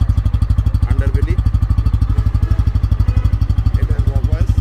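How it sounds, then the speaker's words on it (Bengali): A Bajaj Pulsar N160 fuel-injected motorcycle idles close by, its single-cylinder engine and exhaust putting out a steady, rapid, evenly pulsing thump, loud and alone. "এখন আমি আপনাদেরকে এই বাইকের যে ইঞ্জিন সাউন্ডটা সেটা শোনাচ্ছি।"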